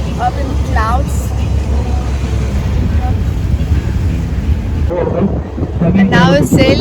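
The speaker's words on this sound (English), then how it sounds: "now we're sailing to the restaurant" A tour boat sails across Huatulco Bay in Oaxaca, Mexico, with steady wind rush and engine drone throughout, and people talking over it at times.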